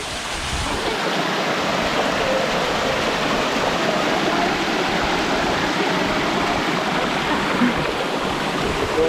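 A cascading waterfall in the hills of Portland, Jamaica roars in a loud, continuous broadband rush of falling water, close and steady throughout with no voices.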